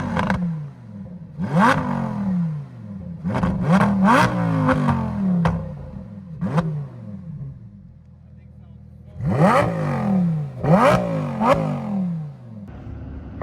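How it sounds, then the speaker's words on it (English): Car engines rev in a rev battle between a 1,200 HP Honda Civic Si and a Lamborghini Huracan STO, loud repeated throttle blips rising and falling in quick bursts, with a brief quieter idle between rounds. "let's do a little rev battle"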